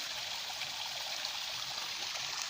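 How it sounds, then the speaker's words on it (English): Low-volume waterfall at Ambakan Falls, a steady, close rush of falling water with a bright hiss and soft trickling texture, continuous and unbroken without any voices. "I'll take a closer look at this part of the falls. It has low water volume,"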